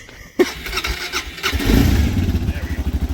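A practically new motorcycle's engine catches abruptly after a brief quiet moment and settles into a rough, pulsing idle, loud and close, with faint voices nearby.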